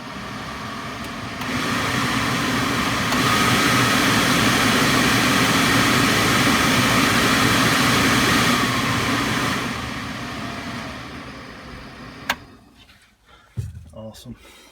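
Cab blower fan of a Bobcat E35i compact excavator running after a resistor replacement, a broad steady whooshing roar that swells up, holds at full speed, then winds down, ending with a few knocks and clunks.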